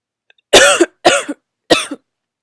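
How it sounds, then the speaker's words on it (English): Three sharp coughs in quick succession, loud and close, separated by brief pauses. "Excuse me, I'm gonna cough."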